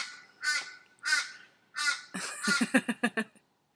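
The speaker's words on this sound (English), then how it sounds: "you can probably hear my crows. I have quite a few crows in the tree" Crows in a tree caw loudly nearby, three drawn-out calls followed by a quick run of shorter, rhythmic caws, with quiet in between.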